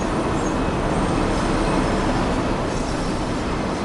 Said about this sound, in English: Yeah, sorry if the train is very loud, because not really much I can do about that.